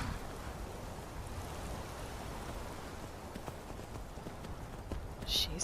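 A horse's hooves clip-clop faintly in the Skyrim video game, a quiet irregular patter over soft rain-like ambience.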